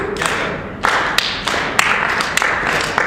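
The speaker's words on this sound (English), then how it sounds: "You guys clap." A crowd claps in unison to a steady beat, sharp group claps landing about every third of a second after a brief pause, close and lively with no voices over it.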